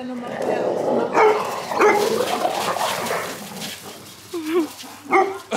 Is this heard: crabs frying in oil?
no